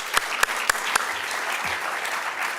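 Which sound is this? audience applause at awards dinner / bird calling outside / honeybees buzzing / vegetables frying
audience applause at awards dinner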